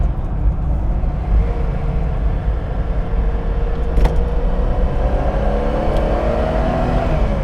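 A Ford Capri Mk I 3000 GT XLR takes a bend with a steady, close engine drone. The rumble stays continuous, and its pitch climbs as the car accelerates toward the end.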